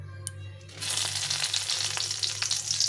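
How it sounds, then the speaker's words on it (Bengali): A few chillies frying in oil in a pan: after a brief quiet hum, a bright, close sizzle starts and keeps going, crackling unevenly with no talk. "প্রথমে আমি কয়েকটা লঙ্কা ভেজে নেব।"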